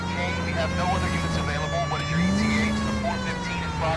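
A police car siren wails steadily in the LA Noire video game, its tone shifting upward partway through, while someone talks over it.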